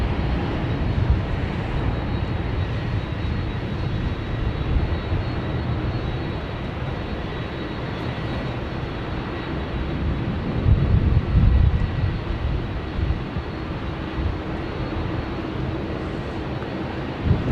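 Delta airliner taking off at Sydney Airport, a broad, steady jet engine roar filling the whole stretch with a slight swell near the middle, distant-sounding and unbroken, no talk.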